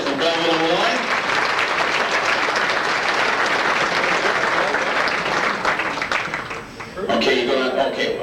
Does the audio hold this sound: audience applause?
yes